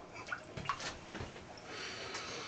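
Water splashes and sloshes in a tub while a pet is bathed, soft intermittent splashing close by with a steady watery background.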